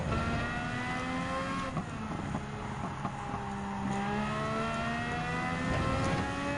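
A Honda racing car's engine revs and accelerates in the Gran Turismo 7 racing game, a loud continuous whine rising and shifting in pitch through the gears.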